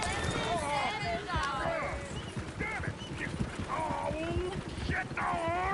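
Horses gallop with rapid clip-clop hooves in a video game on PS4, beneath loud character speech and a horse's whinny-like cries, the hoofbeats running continuously throughout.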